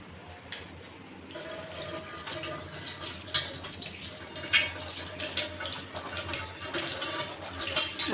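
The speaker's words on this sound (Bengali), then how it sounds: "পেঁপেগুলো এই যে সুন্দরভাবে ফ্রেশ পানি দিয়ে ধুয়ে নিচ্ছি।" Tap water runs continuously over ripe papayas as they are rinsed by hand, a soft, fairly quiet splashing with small irregular spatters throughout.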